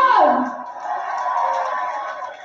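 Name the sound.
protest crowd applauding and cheering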